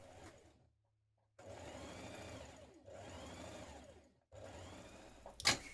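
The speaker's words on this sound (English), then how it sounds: "stitch the long edges together and down one side" A home sewing machine stitching the long edges of a seam on a summer dress, running in three steady whirring bursts separated by short pauses, close and fairly quiet, with no talk.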